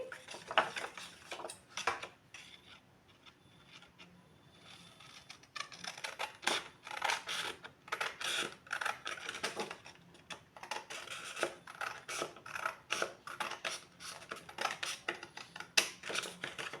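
Scissors cut out paper for a heart-shaped advent calendar, giving quick irregular snipping clicks up close, with a brief quieter pause before the cutting picks up again.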